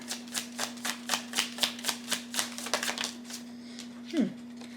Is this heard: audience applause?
no